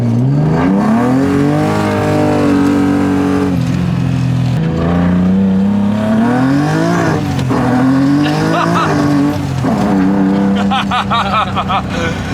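A BMW E30 with a swapped S52 engine and individual throttle bodies accelerates hard, its loud intake roar sweeping up and down through the gears, with tire squeal and voices inside the car.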